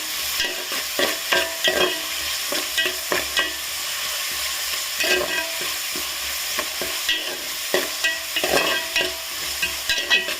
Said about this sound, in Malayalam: കറിവേപ്പിലെല്ലാം കൂടി ഒന്ന് വറക്കണം